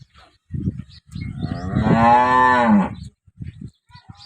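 A healthy cow with a calf, due to give birth the next day, lets out a single long, loud moo close by, with shuffling and thumps in the pen before and after.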